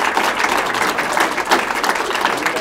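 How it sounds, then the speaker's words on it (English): A seated audience at a book talk applauds the speakers, with steady, dense clapping throughout at a fairly loud level and no talk over it. "can we please have a big round of applause for our speakers?"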